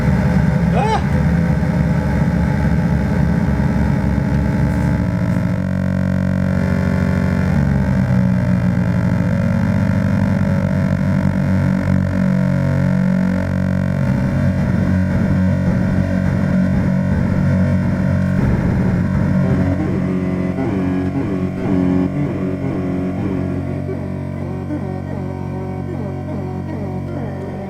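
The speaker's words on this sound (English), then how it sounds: "So you can hear the droning in the background." Hundreds of analog synthesizer oscillators tuned together into one sustained drone note, a thick, dense bed tone with shifting beating and swirling harmonics that holds steady and loud throughout, easing slightly toward the end.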